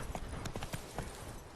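Horse hooves clip-clop at a steady trot in The Witcher 3: Blood and Wine, a fast run of close, muffled thuds over a dense background of game sound.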